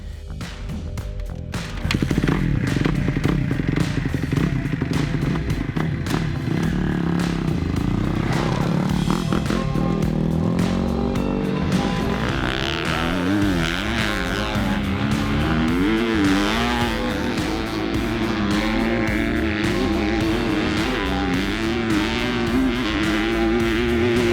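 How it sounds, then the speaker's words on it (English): A Kawasaki KX250 race motorcycle, a Monster Energy Pro Circuit bike, rips around a raceway. The engine revs loud and close, rising and falling as it shifts through the gears, with no talk over it. "today we got a really cool opportunity to ride Garrett Marchbanks Monster Energy Pro Circuit Kawasaki"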